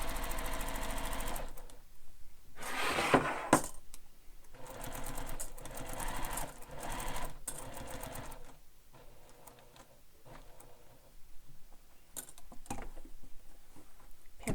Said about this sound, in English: Now we're going to sew around this entire rectangle that we drew.